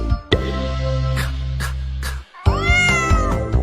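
A cat meows loudly and close by. A long first meow is followed by a brief pause and then a second, bending meow.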